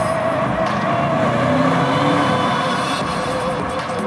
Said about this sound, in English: Shifting down with the pedals here.